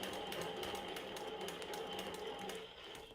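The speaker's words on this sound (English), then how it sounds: "I'm gonna stitch in place a few stitches to secure my threads." A longarm quilting machine stitches in place to lock its threads, giving a steady, close mechanical whir with a fast, even rhythm that runs continuously.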